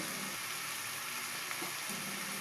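Potato and carrot pieces sizzle steadily as they fry in a pan, a continuous close crackle with no voices.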